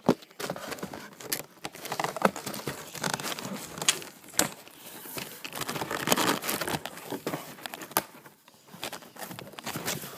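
A boxed Planet Audio AC5000.1D car amplifier being unwrapped, with irregular bursts of crinkling plastic and tearing packaging, close and moderately quiet, pausing briefly between handfuls.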